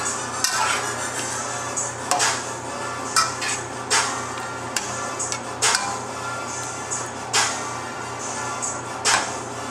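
Wild and crazy shrimp being stirred in a pan, with a utensil repeatedly clinking and scraping against the metal over a steady low sizzle, the knocks irregular and close.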